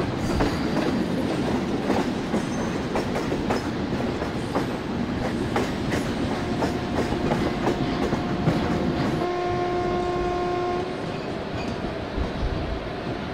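A train rolls along the track in Indian Train Simulator (MSTS), a steady rumble with rhythmic clickety-clack from the wheels, followed near the end by a long horn blast.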